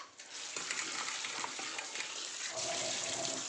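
Cut pointed gourd is rinsed under running tap water, a soft continuous splashing and trickling with light handling noises, fairly quiet.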